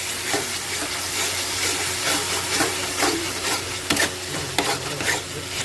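A spoon scrapes and stirs tomato and green chili paste sautéing in a pan, with a steady hiss of frying and several sharper scraping knocks near the end.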